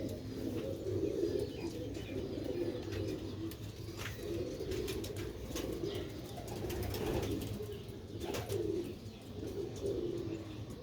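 Sialkoti rooftop pigeons coo in repeated soft, low phrases over steady outdoor background noise, with occasional brief chirps and wing flutters throughout.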